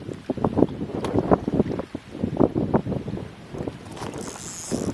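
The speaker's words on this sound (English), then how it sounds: "Wind is messing me up." Gusty wind buffeting a microphone outdoors in the woods, coming in irregular loud bursts and rumbles for several seconds.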